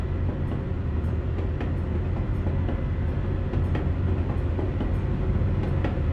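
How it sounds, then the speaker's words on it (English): A train rumbles past a level crossing in Euro Truck Simulator 2, a continuous loud low rolling rumble with faint rail clicks, heard alone without talk. "I hear the train, but I don't see it."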